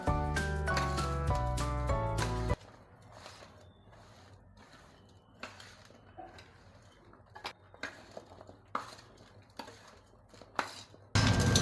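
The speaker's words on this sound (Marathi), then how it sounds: "तो आता आपण हे सर्व मिक्स करून घेऊ" Dry spices for amla pickle being stirred together in a metal pan, giving light scattered clinks and scrapes that come in irregular bursts, close and fairly quiet, with no voices.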